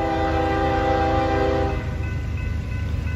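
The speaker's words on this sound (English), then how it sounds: "It will be here where we will see this eastbound manifest with the ES-40DC leading the way." An eastbound freight manifest led by an ES-40DC locomotive on the former Nickel Plate near Oak Harbor, Ohio, sounds a loud sustained horn chord over the rumbling engine, with the horn fading into steady rail noise as it passes.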